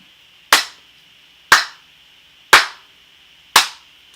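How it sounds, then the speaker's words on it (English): Four sharp, evenly spaced hand claps about a second apart, each crisp and close with a short ringing decay, clapping out a rhythm in a beginning violin lesson. "So let's clap the rhythm with this with our hands"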